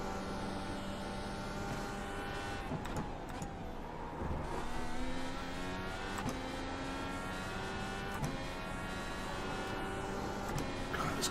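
An Indycar engine in the iRacing sim at Road Atlanta, a continuous high-pitched revving drone that climbs and drops with gear changes, steady and loud throughout.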